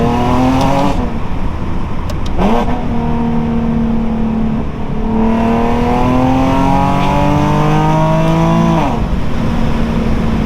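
A Nissan 370Z engine revs hard and climbs in pitch, dips briefly at each gear change, then pulls upward again. Loud, close and continuous.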